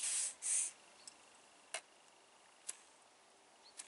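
Contact spray is applied to a Terra Gold LRx shower handle in two short, close hissing bursts, followed by quiet with a few faint clicks.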